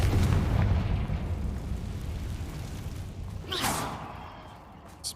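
Fire spell explosion in the Hogwarts Legacy video game, a loud deep boom with a rumbling tail that fades, followed by a brief whooshing burst, no talk.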